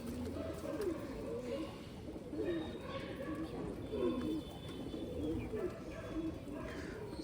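Soft, repeated cooing of pigeons rolls on in low throaty bursts, steady and fairly close, over a constant background hum.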